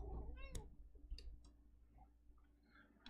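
A little pet cat named Scraps gives a few short, faint meows among soft clicks and rustles, heard near the microphone with no talk over it.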